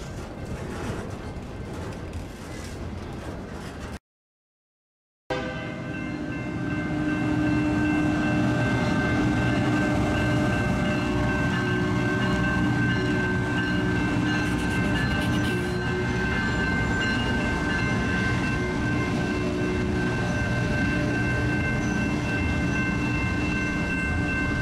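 A shortline railroad freight locomotive and train rumble past up close on Avalon Boulevard, a loud steady roar of engine and rolling wagons with tonal hum, after a brief dropout near the start.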